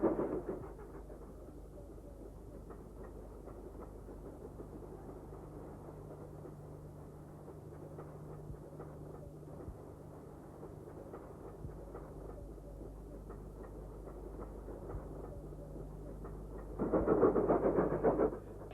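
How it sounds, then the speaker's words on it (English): A Stanier Black 5 steam locomotive hauls an evening freight train out of Oban, a faint, distant, steady rumble that swells louder near the end. "A Stanier Black 5 works the evening freight train out of Oban."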